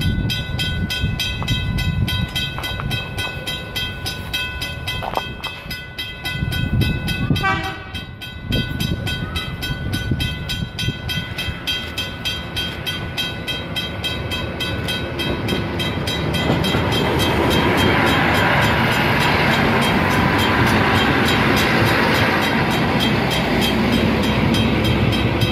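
An Endeavour N8 diesel train pulls away from the platform at Douglas Park, its engine and wheel rumble steady and loud throughout and swelling in the final seconds as it departs, with no talk over it.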